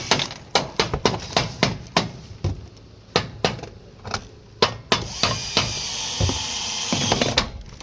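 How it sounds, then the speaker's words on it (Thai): A rivet gun fastens sheet roofing on an earthen house in Chonburi, giving sharp, close metallic snaps in an uneven series, followed by a sustained whirring buzz near the end. "เอารีเวทยิงครับ อ่าทันสมัยนะครับดูรีเวทยิง อย่างแจ๋วเลย"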